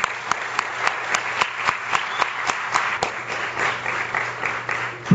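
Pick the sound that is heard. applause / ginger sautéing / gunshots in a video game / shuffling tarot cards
applause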